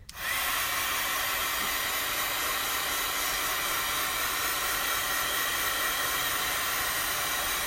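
A hair dryer switches on and runs at a steady, loud, full blast, drying a craft transfer for several seconds with no talking.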